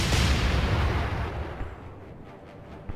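A naval gun in the warship game Atlantic Fleet fires one loud, deep boom that rolls off into a long fading rumble, with a faint small thump near the end.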